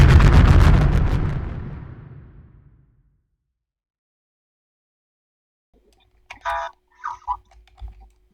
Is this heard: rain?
no